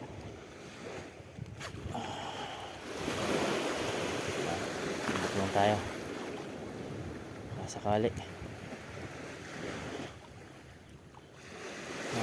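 Surf rolls and washes in a low, steady roar at the shoreline during rod fishing, with wind buffeting the microphone, a swell building in the middle, and someone speaking briefly over it.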